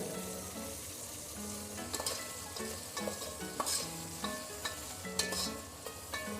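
Medium tomato and onions fry in a pan under repeated stirring, a soft constant sizzle broken by rhythmic spoon scrapes and taps, close and fairly quiet.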